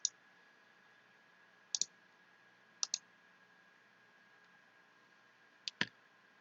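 Sharp computer mouse clicks while working in Kahoot, heard as several brief single and double clicks spaced a second or so apart against a quiet, faintly humming room.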